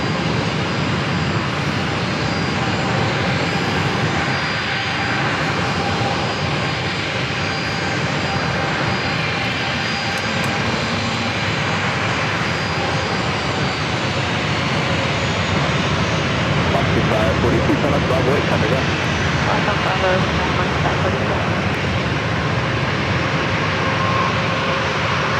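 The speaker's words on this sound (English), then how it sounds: "It's a Breeze Airbus A220-300 coming from Cincinnati, Ohio, touching down runway 27." A Breeze Airbus A220-300 jet from Cincinnati touches down on runway 27 at San Diego airport, its engines roaring as a loud, steady broadband rush that holds for the whole stretch, with a voice talking over it.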